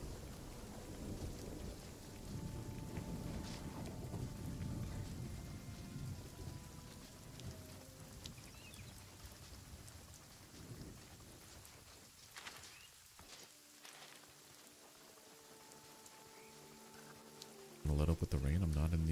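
Steady rain and rumbling thunder fill the game world of Runescape: Dragonwilds, a continuous downpour with low rolls swelling early and fading, a faint voice underneath, before a louder low burst near the end.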